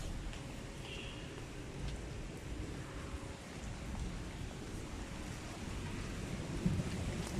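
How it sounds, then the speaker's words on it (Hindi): Heavy monsoon-style rain falling steadily, a dense, continuous hiss and patter on surfaces that stays constant and fairly loud throughout. "वैसे तो बारिश बड़ी अच्छी हो रही है।"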